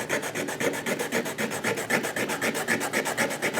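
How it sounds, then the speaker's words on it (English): A bone guitar bridge for a Dean acoustic guitar is rubbed to shorten it, making rapid, even rasping strokes in a steady back-and-forth rhythm, close and clear with no talk. "I'm basically just taking this bridge, this bone bridge, at least that's what I refer to them as, and I'm just rubbing the side here"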